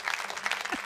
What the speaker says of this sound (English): let's see if the claps are working